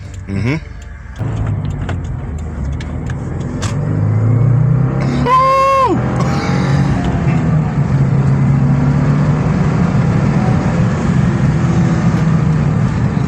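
A 2015 Subaru WRX with a turbo engine accelerates in fourth gear, a steady cabin rumble swelling as the engine pulls, with a brief chime partway through and no voices.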